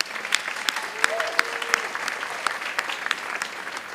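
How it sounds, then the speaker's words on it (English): An audience at a speech competition claps steadily for the speakers, a dense, even round of applause at moderate distance with a few sharper individual claps and a faint whistle. "let's give them one more round of applause"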